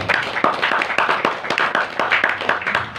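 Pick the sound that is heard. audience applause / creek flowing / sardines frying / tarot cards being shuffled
audience applause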